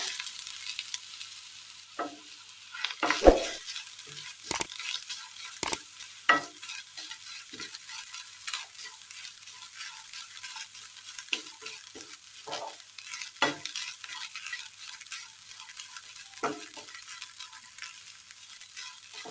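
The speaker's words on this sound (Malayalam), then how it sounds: "നന്നായി ഒന്ന് ഫ്രൈ ചെയ്തെടുക്കാം." Chopped ginger, cardamom, shallot, black pepper, fennel and grated coconut frying in a pan, a soft steady sizzle punctuated by frequent spoon scrapes and clinks against the pan, close and without talk.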